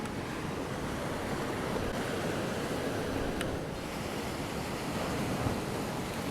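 Ocean waves break on a Hawaiian shore right beside the listener: a steady, loud, broad wash of surf with a faint rush of wind and no voices.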